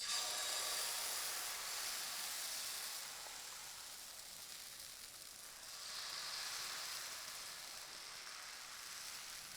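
Jowar amboli batter sizzles on an oiled, medium-hot griddle over a low gas flame, giving a soft, steady hiss that swells slightly midway, close and quiet with no talk.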